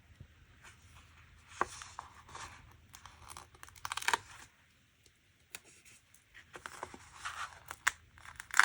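Scissors snip and paper rustles and crinkles in short, close bursts as sticky paper is trimmed off a planner page, with quiet pauses between cuts.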